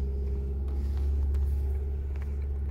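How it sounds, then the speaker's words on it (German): A used car idles with a low, steady engine rumble that stays close and even throughout, with no clear acceleration. "Und jetzt fahren wir mal"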